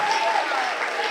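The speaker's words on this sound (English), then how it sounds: "so a nice round of applause for science achievement" Audience applause at a school end-of-year award ceremony, a steady wash of clapping from a crowd filling the room, continuous and fairly loud throughout the short moment.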